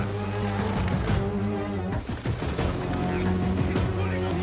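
Rapid bursts of gunfire from the Assassin's Creed Mirage video game, dense and continuous like a fusillade, loud throughout with crashing impacts mixed in.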